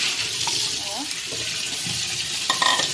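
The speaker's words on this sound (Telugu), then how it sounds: "ఇవైతే ఇట్లా మంచిగా పిసికి మంచిగా కడుక్కోవాలి" Sprouted legumes are squeezed and rinsed by hand in a vessel of water, giving a continuous close sloshing and splashing with soft rubbing and a few sharper splashes near the end.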